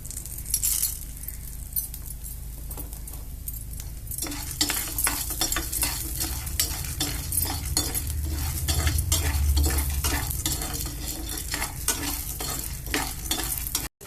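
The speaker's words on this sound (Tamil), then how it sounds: "பூண்டு எல்லாத்தையும் வறுத்துக்கணும்." Garlic sizzles and fries in a pan while a utensil scrapes and stirs, with clinking metallic taps throughout, close and fairly loud.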